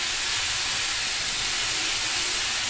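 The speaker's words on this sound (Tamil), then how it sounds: "தக்காளி நல்லா வதங்கட்டும்." Tomatoes sautéing with salt in a pan for tomato chutney give off a steady, close sizzling hiss that carries on without a break, with no talking.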